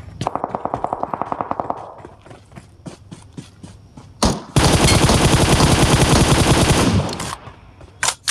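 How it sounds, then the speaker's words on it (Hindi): Gunfire in BGMI, first a quick string of single shots, then scattered cracks, followed by a long dense automatic burst up close and a couple of final shots. "फायरिंग का आवाज आया किसी तरफ से।"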